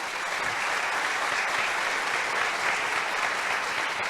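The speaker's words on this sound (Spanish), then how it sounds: "Un fuerte aplauso para nuestros panelistas" Steady, dense applause from a seminar audience honoring the panelists at a political discussion event, sustained at an even level throughout without a break.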